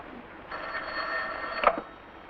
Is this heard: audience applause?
no